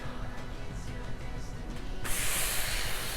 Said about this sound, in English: Ooh, you hear the sizzle.